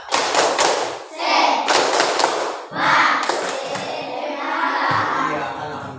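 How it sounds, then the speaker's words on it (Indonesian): A class of schoolchildren does the 'tepuk semangat' rhythmic clapping in a classroom: loud bursts of many hands in a patterned beat, with voices chanting along. "kita tepuk semangat dulu"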